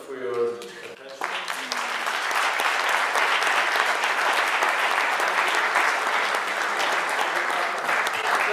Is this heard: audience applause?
yes